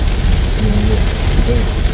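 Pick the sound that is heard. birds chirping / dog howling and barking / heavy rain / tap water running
heavy rain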